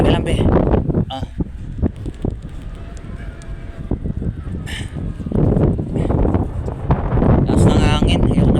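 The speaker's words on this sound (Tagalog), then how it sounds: "Lakas ng hangin. Pero kinakaya niya." Strong sea wind buffets the microphone in loud gusts during bird training on the water, with a rough, roaring rumble rising and falling throughout while people talk over it.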